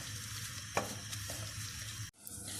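Chopped onions sizzle gently in a pan while being stirred for an onion soup, with a soft continuous frying hiss, a light scrape of the spoon and a brief clatter near the end.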